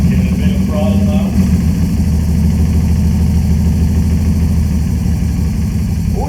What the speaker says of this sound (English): Give it a bit of throttle now.